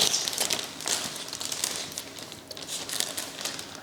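A plastic bag from coffee machine packaging crinkles up close in quick, irregular rustling bursts, moderately loud with no talking.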